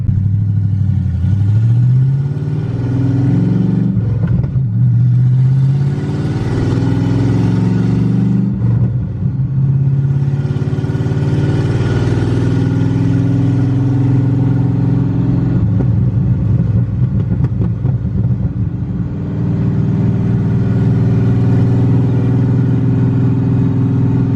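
An LS-swapped Chevrolet Blazer with a manual clutch drives along, its V8 droning steadily close-up and rising and falling through several gear changes over about twenty seconds, with no voices.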